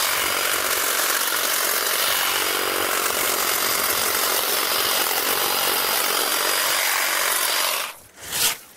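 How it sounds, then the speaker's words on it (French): A hedge trimmer cuts an evergreen hedge with a loud, dense, continuous buzz and rasp, then the noise drops away abruptly near the end, leaving a short burst of rustling. "on n'hésite pas, on reprend le taille-haie"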